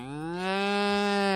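A person imitates a cow with a single sustained, low, steady moo lasting over a second, loud and close with no other sound.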